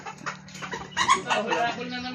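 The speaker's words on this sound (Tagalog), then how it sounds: "Ayun manok. Manok." A native chicken clucks close by in short, busy bursts over faint background noise.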